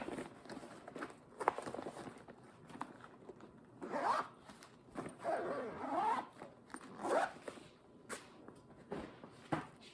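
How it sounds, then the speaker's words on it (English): Zipper pulled shut on fabric cross-stitch project bags, several quick rasping zips in a row at close range with small handling rustles between, no talking. "I am going to have to close the zipper on every one of these though."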